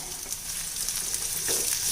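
Steady, close sizzling of chopped onions frying in hot oil, with a brief stirring scrape near the end.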